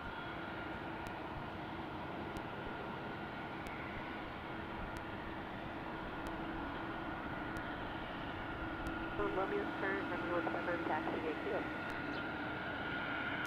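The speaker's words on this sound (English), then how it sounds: "There's our A220 300 arriving in from Dallas." An Airbus A220-300 airliner arriving from Dallas taxis at an airport, producing a steady distant jet engine drone and rumble throughout, with people talking over it.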